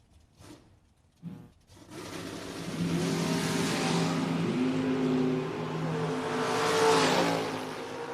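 Two drag cars, a Chevy Nova and a 1967 Camaro, launch and accelerate down the strip at a memorial drag race, a few engine blips giving way to a sustained, rising roar heard from a distance.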